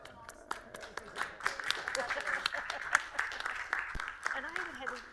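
Clapping at a county commissioners court meeting, a moderate scattered round of applause from a small group, with people talking over it.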